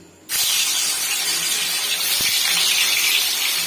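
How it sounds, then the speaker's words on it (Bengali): Chitol fish muithya dumplings drop into hot oil in a wok and set off a sudden loud sizzle that continues as a steady, close hiss with no talking. "তেলটা আমার গরম হয়ে গেছে, এবার মাছগুলোকে আমি দিয়ে দিচ্ছি।"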